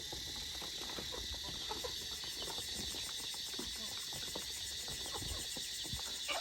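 Chickens on a small Thai farm just after feeding, soft clucking and scattered calls from several birds close by over a steady high insect-like drone, with faint background stirring throughout.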